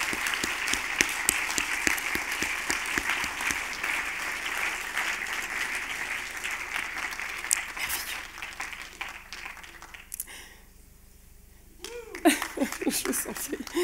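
Sustained audience applause at the FIFF 2024 film festival award ceremony in Fribourg, a full hall clapping steadily before fading out, then brief talk and laughter as it resumes.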